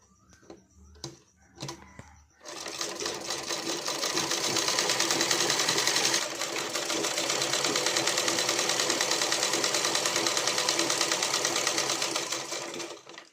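A sewing machine runs a continuous stitch along blouse piping, loud and close with a fast even whirr, after a few brief clicks and a short pause at the start.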